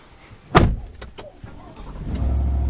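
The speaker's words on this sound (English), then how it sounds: "Steering wheel is power adjustable" A power-adjustable steering wheel shifts inside a 2023 full-size pickup cabin: a sharp click, a few faint ticks, then a low steady motor hum that builds and holds to the end.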